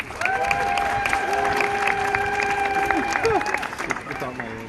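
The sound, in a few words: audience applause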